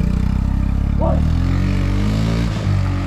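A motorcycle engine revs loudly and close by, its throaty rumble rising and falling in continuous pulses, with a brief voice cutting in near the end.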